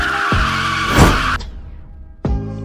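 A 2012 Lotus Evora GTE sports car in the CDID driving game revs loudly with a steady, rising engine tone. It breaks off abruptly, then the engine roars back after a short lull, with some tire squeal mixed in.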